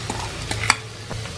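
Boiled potatoes fry in a pan with dry chili, coriander and green chili, giving a steady low sizzle broken by a few scraping stirs of a spoon.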